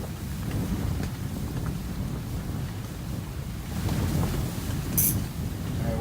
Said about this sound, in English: Freaking massive windstorm here.